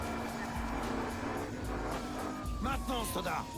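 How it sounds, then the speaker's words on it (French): A car drifts in the video game Battlefield Hardline, its engine droning steadily while the tires squeal in a sustained, wavering screech near the end of the short burst. "Ce petit drift magnifique."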